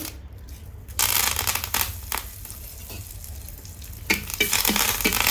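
Curry leaves hit hot oil in a pan for a chana dal chutney powder, bursting into a loud broadband sizzle with sharp crackles and spatters, easing to a steady fry before flaring up again near the end.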